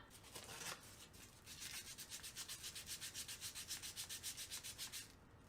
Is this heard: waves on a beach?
no